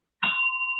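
A single doorbell-style bell sound effect strikes once, then rings on as two clear sustained tones that hold to the end, with no talk over it.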